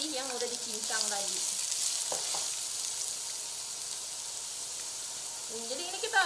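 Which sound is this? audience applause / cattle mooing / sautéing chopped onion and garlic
sautéing chopped onion and garlic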